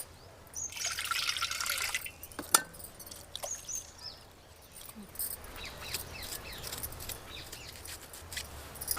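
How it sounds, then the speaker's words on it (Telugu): Tamarind is washed in water for a crab curry, with trickling and splashing in a kitchen. A louder splash of handling comes early, then quieter drips and sloshes follow. "ఫస్ట్ అయితే మనం చింతపండు కడిగి నానబెట్టుకోవాలి"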